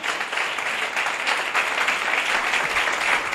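Audience applause at a religious talk, sustained dense clapping from a large crowd, loud and even for several seconds with no speech over it.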